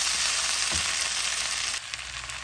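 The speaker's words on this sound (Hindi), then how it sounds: "मैंने भिंडी इसके अंदर डाल दी है, आलू के साथ डाल दी है। अब इसको अच्छे से मिला रही हूँ" Okra and potatoes sizzle loudly in a karahi, a dense bright hiss, close up, with scraping stirs that briefly lower the sound, and no talking.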